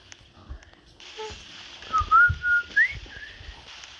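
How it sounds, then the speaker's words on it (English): A person whistles the short McDonald's theme tune, a few bright rising and falling notes near the microphone over a low background hum. "That was me whistling the McDonald's theme."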